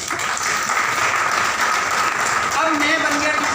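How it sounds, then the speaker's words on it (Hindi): Audience applause for Lalit ji at a business meeting, steady, moderately loud clapping that runs throughout, with a voice speaking faintly near the end. "ललित जी के लिए जोरदार ताली"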